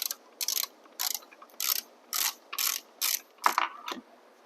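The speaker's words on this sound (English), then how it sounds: "use a 13mm socket and a 6mm hex to go ahead and remove this bolt" A socket wrench with a 13mm socket ratchets on a seat bolt of a Luna Talaria XXX electric dirt bike, a series of short crisp clicking bursts in an uneven rhythm, close up and alone.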